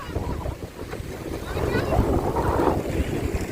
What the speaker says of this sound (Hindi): देखो लहरें उठने लग गई, अब तेज हवा होगी ना तो लहरें आने लग गई।